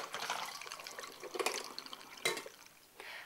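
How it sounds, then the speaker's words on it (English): Photographic fixer is poured out of a film developing tank, giving a quiet splashing gurgle with a few sharper spurts and drips, close by and soft, with no talking. "I stop my stopwatch and I pour my fixer out"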